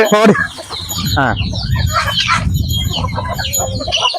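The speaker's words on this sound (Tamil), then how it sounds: "இந்த 2 கோழி கின்னி கோழின்னு சொல்லுவாங்க." Busy poultry chatter with clucks and a sharp guinea fowl call near the start, birds calling over a steady farmyard murmur.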